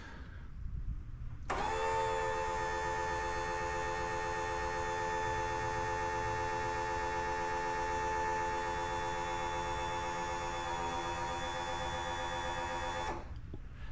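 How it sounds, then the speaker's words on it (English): Power top pump on a 1968 Pontiac Firebird convertible runs for about twelve seconds as a steady, loud electric motor whine with a strong harmonic hum, starting and stopping abruptly, with no talk over it. "Power top pumps working."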